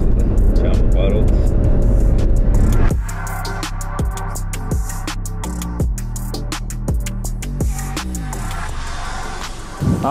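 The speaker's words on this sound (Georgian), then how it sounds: "ახლა მე გადმოვთავ მანუალზე, 6-ათი მივდივარ, მე-7 და მერვე 8 სიჩქარიანი." An Alfa Romeo Stelvio Quadrifoglio with a 2-litre engine, driven in manual mode, revs hard and then climbs through quick upshifts, each gear change cutting the rising engine note before it pulls again, loud and close from inside the cabin.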